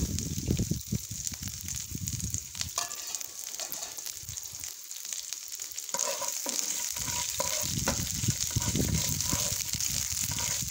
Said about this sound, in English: Fry these onions nicely till it becomes translucent.